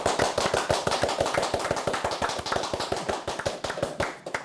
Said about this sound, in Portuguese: Depois de algumas palmas maravilhosas, bem fortes dessa